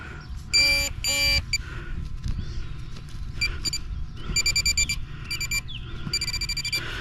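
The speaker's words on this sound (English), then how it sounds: "So that's a silver signal right there" Metal detector tone for a silver signal in an Ohio state park: repeated bursts of bright, high-pitched beeping, some short and clustered, others longer, over a low background hum, close and loud with no talk.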